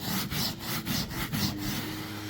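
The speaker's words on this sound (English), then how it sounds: "The way I'm gonna tackle these is that I gotta scrub them like this" A carpet corner is scrubbed hard by hand with a brush before hot-water extraction, a rhythmic back-and-forth rasping of about six close, loud strokes with no talk.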